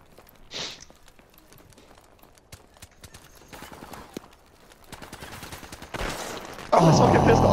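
Sharp pistol shots crack out one at a time in Call of Duty Modern Warfare Remastered, short bursts scattered over a quiet bed, followed by a louder blast and dense noise at the end.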